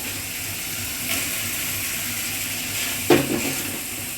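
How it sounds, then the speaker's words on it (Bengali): Fried eggplant goes into spiced dried fish cooking in oil, a steady soft sizzle with a couple of brief bumps and clatters as the pieces are added and stirred, no talking. "এবার আমি ভাজা বেগুনটা দিয়ে দেবো।"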